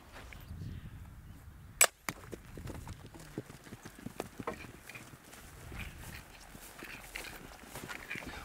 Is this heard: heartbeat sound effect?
no